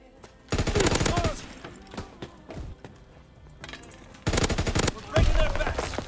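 Hip-fired gunshots in Call of Duty: WWII come as two loud, rapid automatic bursts separated by a quieter stretch of scattered clicks and shots, close and dominant, with no speech.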